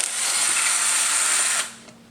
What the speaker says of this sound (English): you're going to remove these 2 12mm hex head bolts. So grab your socket